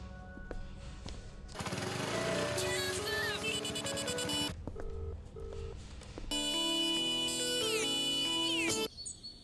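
Phone ringtone sounding during a call, with two long bursts of loud electronic melodic tones and beeps separated by quieter low sound, close and prominent.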